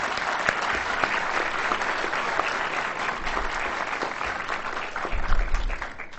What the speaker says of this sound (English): So a nice round of applause for our guests tonight.